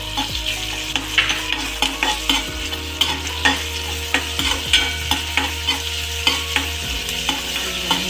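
Tomatoes added to fried onions in oil for a vegetable Chinese pulao, sizzling steadily with repeated scraping stirs of a spatula against the pan, close and loud without any talk.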